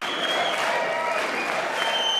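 Applause fills the chamber of Congress at the State of the Union address as the men's hockey team is honored. The dense crowd clapping is steady and sustained from start to finish, with no voices standing out.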